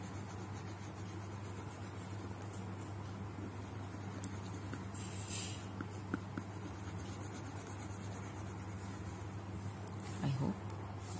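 Colored pencil scratches steadily across paper in a quiet room, a soft, continuous scribbling texture with no voices.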